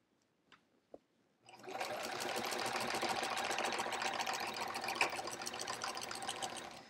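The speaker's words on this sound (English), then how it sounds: "Am I still sewing? Yeah, I'm still sewing." After a couple of small clicks, a sewing machine starts up and runs steadily for several seconds, a fast continuous whirring hum close by, horizontal-quilting a sampler quilt.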